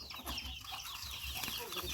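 A large rooster with long spurs clucks and calls close by in a short, faint burst, with farmyard ambience behind it.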